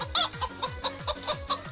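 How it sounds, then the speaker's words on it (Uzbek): A rooster clucks in a steady run of short, evenly spaced calls, fairly close but not loud, with no talk over it. "Xo'rozi bu."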